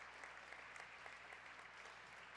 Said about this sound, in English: So the seniors get a standing ovation from the crowd.